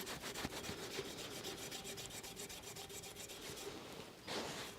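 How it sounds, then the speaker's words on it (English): A copper pot or jug scrubbed with an abrasive scouring pad made from weeds, a fast rhythmic rasping of repeated strokes close up, ending in a louder burst of scraping. "you can see that this copper pot or jug is actually cleaning up. It's so abrasive"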